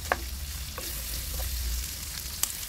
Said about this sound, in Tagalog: Tapos, isutay natin siya ng ilang minuto, yung hanggang lumabas yung aroma nila